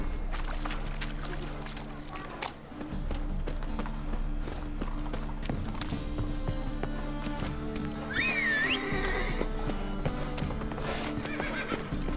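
Geralt's horse Roach in The Witcher 3 gallops with a steady thudding clip-clop and lets out one clear whinny midway, over a low ambient drone with some background speech.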